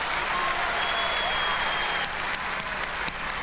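Audience applause at a live concert stage show, a dense, steady wash of clapping from a large crowd heard at moderate distance, fairly quiet, with a few sharper claps near the end.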